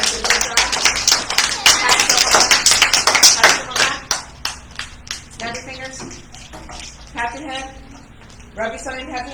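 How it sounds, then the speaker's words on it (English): Group applauding and snapping fingers, a burst of dense overlapping claps and snaps that thins out into scattered claps, with voices talking over the later part. "Everybody, give yourself a round of applause"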